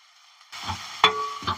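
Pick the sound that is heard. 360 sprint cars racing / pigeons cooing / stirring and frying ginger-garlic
stirring and frying ginger-garlic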